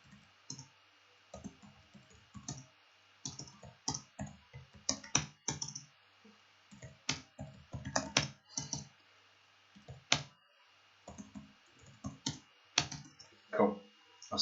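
Fast, uneven typing on a computer keyboard during network switch configuration, with bursts of close, crisp key clicks and short pauses between them. No one speaks.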